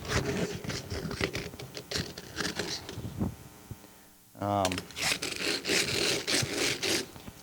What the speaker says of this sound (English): Just maybe give it a little rasp.